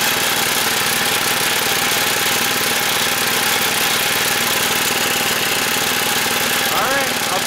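Engine of a robot lawnmower concept machine running: a loud, steady, rattly mechanical drone that stays constant throughout, close up and with no pauses.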